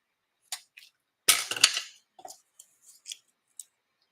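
Scissors snip scrapbooking card stock for a Stampin' Up! card, a few short crisp cuts with one longer slicing stroke, close and fairly quiet, with small taps and rustles between; no talking.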